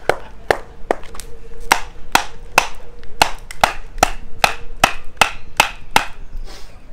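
A knife blade is batoned through sticks of wood, sharp woody knocks landing in a steady rhythm of about two per second, loud and close with no talk.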